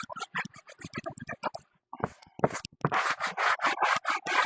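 A small sanding block rubs over the rough surface of a dirty trash can in quick rasping strokes, an uneven burst early on, then a brief pause, then a steadier run of louder, rhythmic scrubbing passes.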